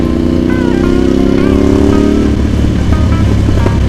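A Ducati Monster motorcycle engine and exhaust roaring loud and close, a steady deep rumble with revving tones shifting over a few seconds.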